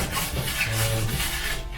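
A sanding pad rubs back and forth over a metal Christmas reindeer frame, smoothing off bubbled bits with a continuous close, raspy scrubbing that swells and eases in strokes, with no talk over it.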